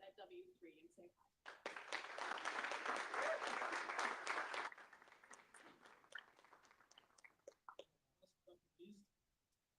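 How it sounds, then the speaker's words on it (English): Audience applause at a hackathon demo day, a dense burst of clapping swelling for about three seconds then thinning into scattered claps, with quiet talk before and after. "So give a huge round of applause for our friends at W3 and say hi."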